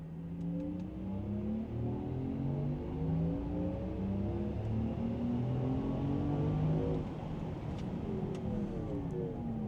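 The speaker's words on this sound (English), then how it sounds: "You get all the Porsche active sound, which is extremely exciting, obviously." Porsche Macan 4 electric car in sport mode plays its synthetic active sound, a smooth tonal hum rising and falling in repeated sweeps like revving, steady and moderately loud with no talking.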